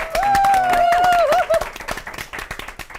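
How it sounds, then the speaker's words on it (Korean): Studio audience applause at the opening of a live Korean CEO talk show, a burst of clapping lasting about a second and a half under a host's voice, then fading into scattered claps as speech continues. "박수도 했습니다."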